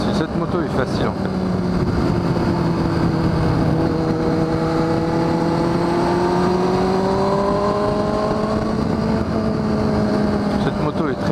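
A Kawasaki ZX6R 636 sport motorcycle being ridden, its engine note droning steadily and climbing in pitch as it accelerates through the gears, with wind rush and a rider's voice talking over it.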